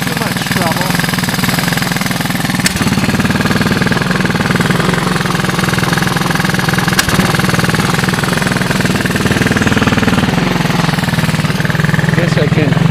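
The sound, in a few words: 1985 Honda ATC 200S engine running on portable ignition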